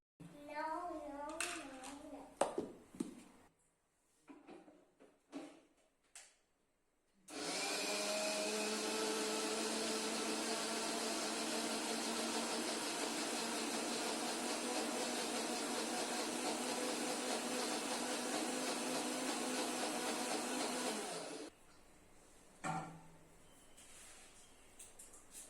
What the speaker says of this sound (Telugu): ఇక్కడ నేను మిక్సీ అది వేస్తుంటే